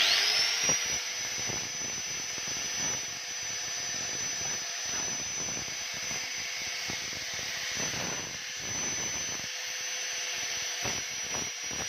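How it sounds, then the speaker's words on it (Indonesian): A high-pitched whine of an electric grinder with a fine sanding disc, smoothing a coconut shell cup, runs steadily throughout, with faint scraping contact noises underneath, close by and fairly quiet. "Ini saya sudah pasang gurindanya, gurinda amplas halus."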